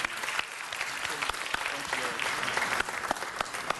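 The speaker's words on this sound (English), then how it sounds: "Let's give them another round of applause, everyone." Audience applause fills a city council meeting chamber, a steady dense clapping from a crowd that holds at an even level throughout, with a voice faintly audible underneath.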